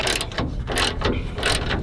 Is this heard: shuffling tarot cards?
no